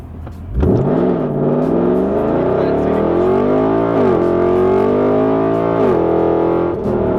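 A Mercedes-Benz C63 AMG launches from a standstill in a 0-100 km/h run, its engine note surging loud and steady, rising in pitch through several gear changes over about six seconds.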